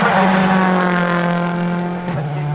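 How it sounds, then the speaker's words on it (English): A loud, close rally car engine at Wales Rally GB 2010 holds a high droning note, then dips as the car brakes into a chicane, turning right then left. "let's hear it for Matt Wilson at Scott Martin as he breaks in towards the chicane, bends it right, and then shimmies left"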